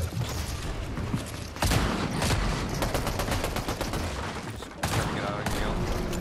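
Bursts of video game gunfire crack in rapid clusters, with sharp loud volleys near the start and again toward the end, and a busy mechanical din running between them.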